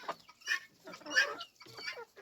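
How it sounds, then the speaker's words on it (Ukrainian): A few hens taking a dust bath cluck softly nearby in short, broken bursts, quiet with pauses between calls. "купати це тільки поперелякувати курей"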